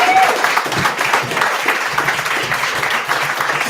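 An audience at a poetry reading night claps in sustained, dense applause that fills the whole stretch at steady loudness, a roomful of hands with no one speaking over it.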